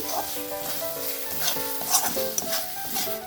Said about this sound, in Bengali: এটা আমি কাসরি মেথিটা দিয়ে দিচ্ছি মিশিয়ে নিচ্ছি